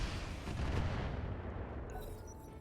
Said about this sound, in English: One barrage of missiles.